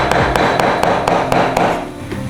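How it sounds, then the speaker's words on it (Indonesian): A knife chops mackerel fish skin on a cutting board in quick, evenly spaced knocks, about nine sharp hits, close and loud with no talking. "Kita akan potong-potong."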